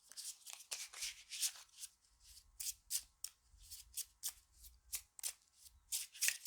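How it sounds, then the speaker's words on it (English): Cards for the Tanglewoods board game are shuffled up close in repeated quick riffles, crisp rattling bursts with short gaps between them. "Let's actually do a little more shuffling."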